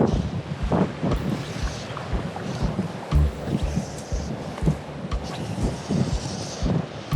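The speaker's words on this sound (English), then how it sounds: "Wow, this is gonna be rough, boys. This wind" Strong gusts buffet the microphone on a river during an overnight float-fishing trip down a trout stream, a loud roaring rumble that rises and falls throughout, with water and boat noise underneath.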